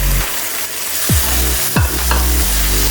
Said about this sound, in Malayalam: ഇനി നമുക്ക് അരച്ച് വെച്ചിരിക്കുന്ന അരപ്പ് ഇതിലേക്ക് ചേർത്ത് കൊടുക്കാം